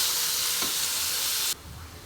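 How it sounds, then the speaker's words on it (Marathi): Onion sizzles and fries steadily in a pan over low gas for smoked aubergine bharta, a close, even hiss that suddenly drops to a quieter sizzle near the end. "मला आता बारीक गॅसवरती व्यवस्थित असं कांदा मऊ होईपर्यंत मी भाजून घेते"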